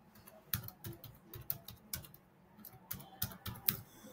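Keys on a computer keyboard are tapped in quick, irregular bursts while someone enters an employee's name into an online registration form, quiet and close with no talk.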